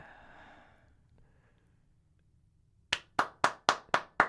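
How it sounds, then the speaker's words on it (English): One person claps hands six times in an even, steady rhythm, each clap crisp and close, following a brief breathy sound and a quiet pause. "Can we see a clap real quick?"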